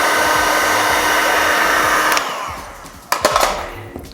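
A heat gun blows loud and steady while heating chrome vinyl wrap on a Jaguar XF, then cuts out, followed by a few sharp crackles and rustles of the stretched film.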